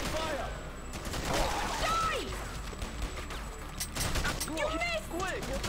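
Rapid video game gunfire crackles in bursts, mixed with crashes and impacts, while a player talks excitedly over the action throughout.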